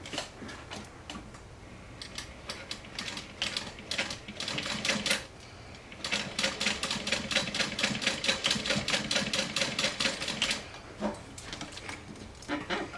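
Sewing machine top stitching elastic into a fanny pack, rapid mechanical ticking in bursts of several seconds separated by short pauses, close and moderately loud.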